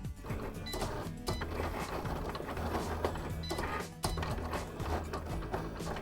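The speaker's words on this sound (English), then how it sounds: "First, the Cricut Explore machine." A Cricut Explore machine cuts an intricate love card, giving a busy mechanical whir of stepping motors and quick clicking carriage moves in a rhythmic, steady pattern at close range, with brief pauses.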